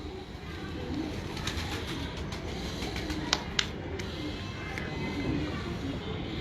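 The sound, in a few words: pigeon cooing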